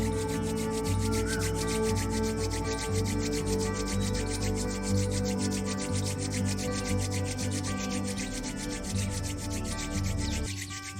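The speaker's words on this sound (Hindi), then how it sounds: "दोनों हाथों को रब करेंगे।" Palms rubbed together steadily for about eleven seconds during a quiet yoga session for sleep, a continuous soft friction swish over faint background hum, with no talking.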